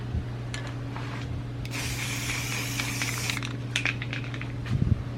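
Spray primer hisses steadily from an aerosol can onto old rusty Dodge door parts. There are a few short bursts, then one long continuous spray, close and fairly quiet, with a low hum underneath.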